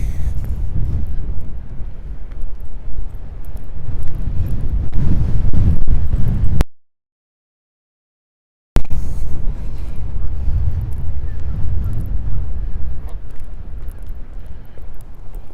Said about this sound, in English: Ooh, that breeze is chilly.